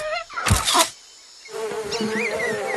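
A cartoon fly buzzes in a Marsupilami animation, a brief loud burst followed after a pause by a steady droning buzz with wavering tones.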